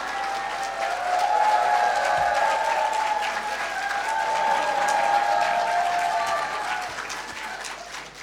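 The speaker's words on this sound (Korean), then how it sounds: "우리 박수와 함께 할렐루야로 환영하겠습니다" A church congregation at a 23rd anniversary service applauds to welcome the pastor, with dense sustained clapping from a large crowd that swells and holds steadily throughout.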